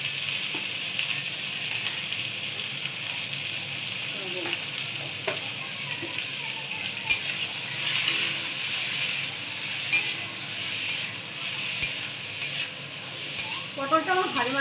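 Pointed gourd (potol) pieces fry and sizzle steadily in a pan with mustard paste and turmeric nearby, a continuous close hiss with occasional stirring scrapes and brief clinks.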